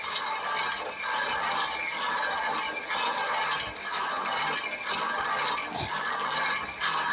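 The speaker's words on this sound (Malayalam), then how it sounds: "നല്ല ഫോഴ്സിലാണ് വെള്ളം വരുന്നത്" A strong, steady rush of water pours continuously from a manual, non-electric pump outlet at close range, with slight surges in its flow and no voices.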